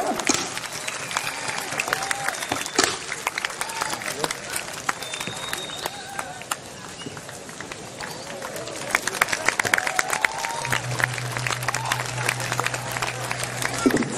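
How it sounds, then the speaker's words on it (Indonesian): Audience applause and crowd noise fill the air after a Balinese Baleganjur parade performance by the Gianyar Regency delegation at the 2008 Bali Arts Festival, a dense, steady clapping that swells toward the end with a low hum underneath. "Sekali lagi mohon tepuk tangan yang meriah untuk penampilan Duta Kabupaten Gianyar"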